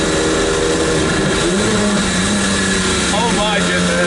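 A Maserati MC12 engine revs gently upward while driving slowly, a loud, rough mechanical drone that swells and shifts in pitch, with a person talking over it.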